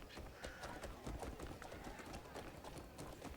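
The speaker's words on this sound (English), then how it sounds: "Let's call our horse." A horse galloping in the video game Crimson Desert, quick rhythmic hoof beats under a dense, busy game soundscape.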